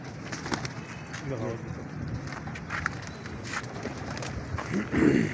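Pigeons in a Lahore pigeon-keeping loft give soft, low cooing calls in short bursts near the microphone, under someone talking and light wind noise.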